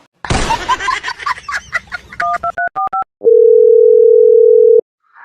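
Several quick telephone keypad beeps and tones come first, then a loud, steady landline dial tone holds for about a second and a half before cutting off.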